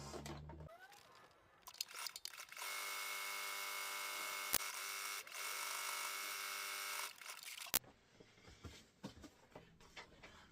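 Sewing machine stitching pieces of leftover bag webbing strap together, a steady loud motor whir running for several seconds in the middle, with quieter handling noises before and after.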